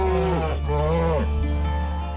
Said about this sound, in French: j'ai halluciné d'entendre les vaches répondre à l'éleveur